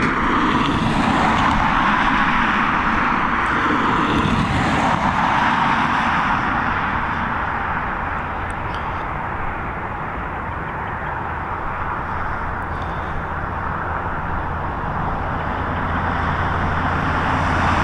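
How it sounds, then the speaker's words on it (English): An Emirates Boeing 777 at Dublin Airport roars steadily past, a broad, loud jet rumble holding for the full stretch with no voices. "Here she is, that beautiful Boeing 777 operated by Emirates, of course"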